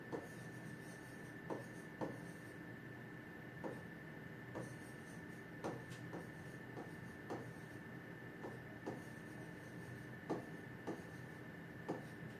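A pen scratches across paper while trigonometry steps are written out, faint and close, with soft irregular strokes and taps against a quiet room hum.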